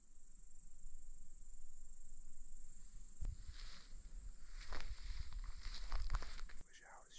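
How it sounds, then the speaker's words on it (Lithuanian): Grasshoppers chirp in a high, steady drone beside a thin oak tree, joined midway by rustling and crunching footsteps close by. "Dar žiogai girdisi, sirpia."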